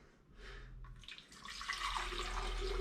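Water pours from a filter pitcher into a cold brew coffee maker, a steady close splashing stream that grows louder and fuller as the flow continues, no talking.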